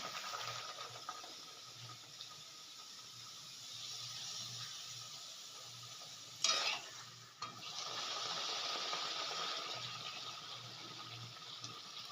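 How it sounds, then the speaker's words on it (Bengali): Luchi puffing in hot oil in a home kitchen gives a steady broadband sizzle, with a brief louder crackle and splash partway through as dough goes in or is turned, then the frying hiss resumes. "তেলটা ভালো করে গরম হয়ে গেছে আমি ভেজে দিই লুচি"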